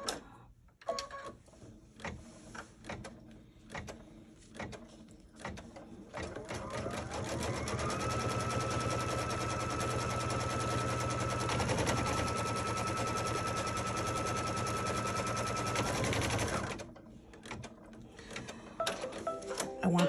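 A sewing machine stitches a placement line for silver foil on a quilted pillow block, a steady loud whirring run of about ten seconds framed by softer starts, clicks and handling noise.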